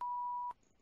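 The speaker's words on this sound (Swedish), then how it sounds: "Så det var ju ett jävla pipande här." A single steady electronic beep lasting about half a second, clear and isolated, ending with a brief click, followed by near silence.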